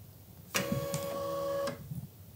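Embroidery machine pulling the hoop into position, threaded with red thread top and bottom, gives about a second of steady mechanical whirring with tonal motor whine, starting and stopping abruptly; no talk.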